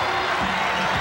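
Basketball arena crowd at an Indiana vs Michigan game, a steady roar of cheering and whooping filling the space with a commentator's voice faintly under it.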